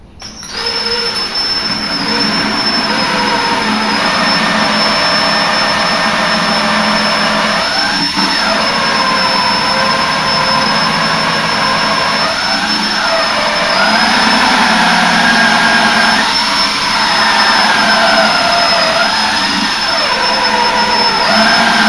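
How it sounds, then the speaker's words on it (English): A 3/4 inch hole saw on a drill cuts a slightly downward-angled hole in a wooden 4-frame nuc box, giving a loud, steady whine and grinding drone with slight pitch dips as it bites, continuing for about twenty seconds, close by and without talking. "And I've got a 3/4 inch hole saw."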